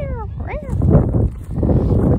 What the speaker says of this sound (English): I found some more black cats and they're very chatty